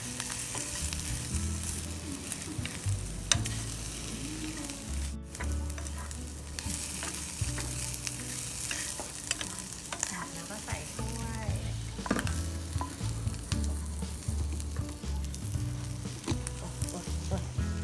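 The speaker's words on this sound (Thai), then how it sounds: "ทอดจนน้ำมันหายหมดแล้ว" Chinese sausage (kunchiang) sizzles steadily as it fries in a pan, a continuous close crackle with occasional stirring scrapes throughout, no voices.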